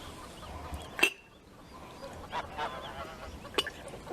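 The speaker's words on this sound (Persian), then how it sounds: "صبحانه رو با سمفونی غازها و صدای قوقل قوقل خروس‌ها" Geese honk and roosters call in short, scattered bursts at a rural farmstead in Ardabil during breakfast outdoors, spaced out and moderately distant over a quiet background.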